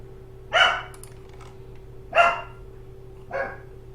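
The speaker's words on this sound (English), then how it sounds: "I'm really unfocused for some reason because I can hear the dogs" Three loud dog barks ring out roughly a second apart, each short and sharp, over a constant faint background hum.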